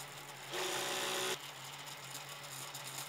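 3D printer with a direct pellet extruder printing a small extruder pinion gear at 10 mm per second, a brief louder motor whine burst followed by steady mechanical whirring and faint stepper ticking.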